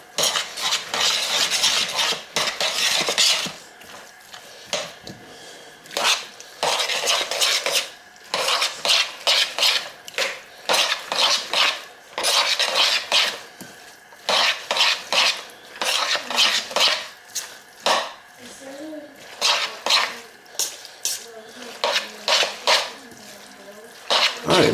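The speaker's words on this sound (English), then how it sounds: "And give it a nice mix up. You just mix it all together." Tuna pasta salad being mixed in a bowl, with repeated scraping and clinking of a utensil against the bowl in uneven bursts, close and fairly loud, with no talk.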